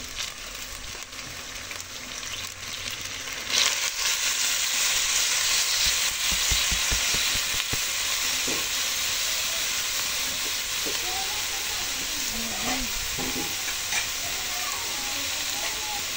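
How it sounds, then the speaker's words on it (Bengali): Ash gourd pieces laid over moong dal in a pan and fried, giving a continuous broad sizzle and hiss with intermittent stirring scrapes, a voice faintly audible underneath. "এখন এর উপরে দিয়ে দিচ্ছি চাল কুমড়াগুলো।"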